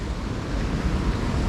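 The Radulja river flows past an old mill in winter, a steady, close broadband rush of water that stays even and unbroken throughout, with no voices.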